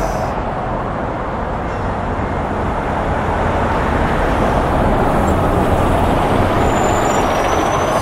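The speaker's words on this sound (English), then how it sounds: "Here comes the 288 bus." A number 288 Adelaide Metro city bus pulls into the Y2 stop on North Terrace in Adelaide. A loud, steady engine roar dominates the whole stretch at close range, with a faint high hiss near the end.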